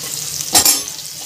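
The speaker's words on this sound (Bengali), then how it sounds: "এটাও হালকা করে একটু ভাজা ভাজা করে নেব।" Spring onion whites, ginger and green chili sizzling in a hot pan, with a brief loud burst of frying as a utensil stirs, then a steady soft hiss.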